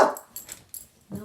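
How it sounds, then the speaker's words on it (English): A pet dog barks a few times up close, the sharp yelps separated by short pauses and ending in a lower, fuller bark. "I told you she likes to bark."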